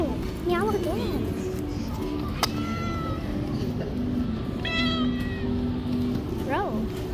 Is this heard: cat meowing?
yes